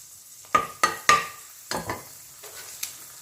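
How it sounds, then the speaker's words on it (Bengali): Two dried red chillies drop into hot mustard oil in a kadai, bringing a handful of sharp metallic clinks and taps followed by a soft brief sizzle, close and otherwise quiet. "তেলটা আমার গরম হয়ে গেছে। এবার এর মধ্যে আমি দেবো দুটো শুকনো লঙ্কা"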